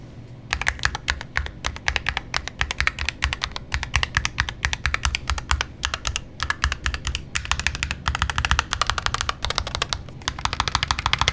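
Rapid typing on a Lamzu Atlantis Pro rapid trigger keyboard, a dense, steady run of close, crisp keystrokes with deeper thocky bottom-outs, continuing without pause and with no voices.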